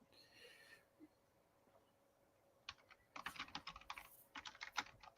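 Fast bursts of keystrokes clatter on a computer keyboard after a quiet start, crisp irregular clicks near and fairly soft.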